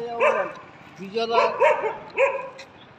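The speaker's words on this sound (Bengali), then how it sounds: "আমরা নতুন দেখা কুকুরগুলো ভ্যাক ভ্যাক করছে" Dogs bark in quick, yappy bursts close by at a petrol pump in Rajasthan on a cold morning, several sharp yelps following one another, while people talk over them.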